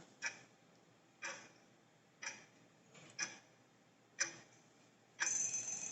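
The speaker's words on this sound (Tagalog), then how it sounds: "Your timer starts now." A countdown timer clock ticks in a quiet classroom quiz setting, six evenly spaced clicks about one second apart, faint and alone, the last one longer and brighter like a chime.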